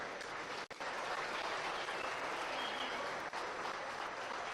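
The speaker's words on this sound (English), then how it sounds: "Let's give these senior showmen a big round of applause." A crowd at a swine show applauds the senior showmen, a loud, dense, continuous wash of clapping that holds steady for the whole stretch.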